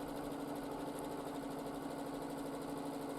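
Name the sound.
sewing machine doing free motion quilting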